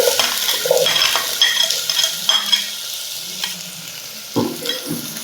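Shallots and sliced onion sautéing in a pan for Kerala mutton curry, a steady close sizzle broken by scraping stirs and a few sharp clinks of the spoon against the pan.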